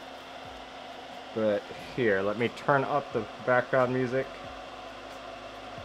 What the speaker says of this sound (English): Turn on fume extractor, so I apologize for the noise.